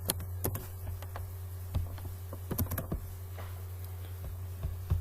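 Someone types on a computer keyboard in short irregular bursts of close, sharp key clicks, with a steady low hum underneath and no talking.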